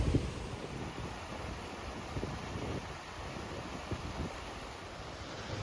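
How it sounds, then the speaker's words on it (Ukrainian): Wind rushes steadily across the microphone in a low, breathy roar in the Carpathian mountains at Osmoloda, with small gusts and no voices. "Почався якийсь вітер."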